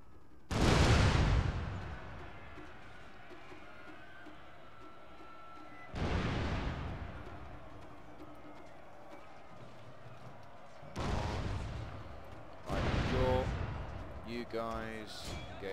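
Gunfire in a Shogun 2 Total War video game battle: four heavy, booming volleys at intervals, each sharp and then rolling off, with faint battle noise and game voices between them.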